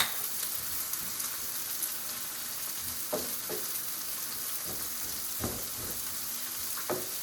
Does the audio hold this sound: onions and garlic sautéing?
yes